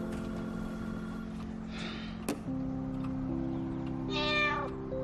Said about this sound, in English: No more Violet the cat.